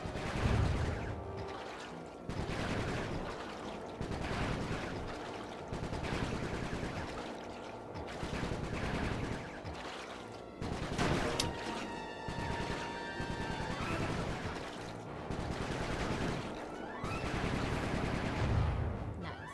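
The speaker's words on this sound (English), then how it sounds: "Nice shooting, Bentley" Gunfire in the Sly 3 video game: steady, repeated shots and rattling bursts run through a long stretch of game audio, loud and close, with crashes and effects mixed in.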